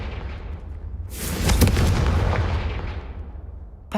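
A Confringo explosion spell goes off in the Hogwarts Legacy video game: a single heavy boom bursts out about a second in, then a broad roaring blast slowly fades over the next few seconds.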